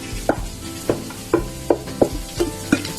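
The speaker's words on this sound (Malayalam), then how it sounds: "ഇതിലേക്ക് നമുക്ക് 2 മീഡിയം സൈസിലുള്ള സവാള അരിഞ്ഞത് ചേർക്കാണ്" Chopped onions sautéing in hot oil with curry leaves for Kerala squid roast, a close sizzle under a regular rhythm of seven spoon scrapes and taps against the pan.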